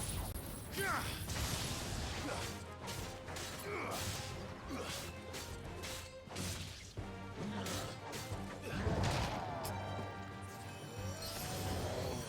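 Judgment Bolt attack in Final Fantasy 16, a run of loud crashing impacts, thunderous smashes and whooshing blasts that carries on steadily, with a voice shouting briefly beneath the chaos.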